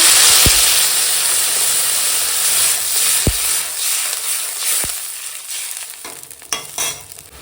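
Spice paste for a vegetarian Saraswati Puja dish frying in a pan, with a steady loud sizzle and hiss throughout and a few sharp knocks of a spoon or pot, no voices.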